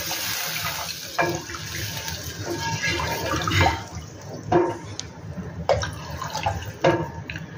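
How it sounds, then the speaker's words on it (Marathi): Water is poured into a cooking pot of spices sautéed in oil, a quiet, steady splashing run broken by a few sharper drips and clinks. "आता याच्यामध्ये पाणी घालायचं आपल्याला"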